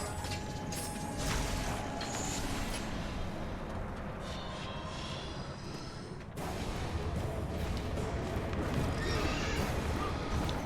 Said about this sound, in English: They sound like a horse when they dive.